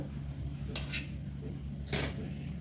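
A knife cutting freshly steamed, cooled dhokla into pieces on a plate or tray, with two brief scraping taps against the dish over a low background hum.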